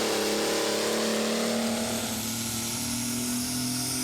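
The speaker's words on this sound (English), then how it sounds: "The last tractor out is Skinny with Onky Anchors at the wheel." A loud pulling tractor engine revs hard and steadily at a tractor pulling competition, its droning pitch holding then climbing slightly, with no pauses.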